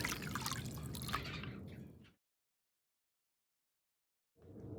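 Gold paydirt concentrates being swirled in water in a blue plastic pan, with a couple of seconds of close, continuous sloshing and splashing that stops abruptly, then resumes briefly after a silent gap.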